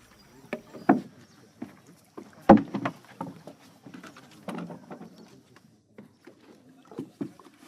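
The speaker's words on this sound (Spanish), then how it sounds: "el método de transporte en Chitwan es en canoa" A wooden canoe glides on a river in Chitwan, Nepal, with intermittent knocks and splashes as the paddle strikes the water and hull, close by and irregular against quiet surroundings.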